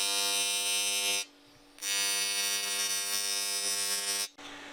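TIG welder arc on cast aluminum, a steady, loud electrical buzzing hum in two long bursts with a brief quiet gap between them and a short stop near the end.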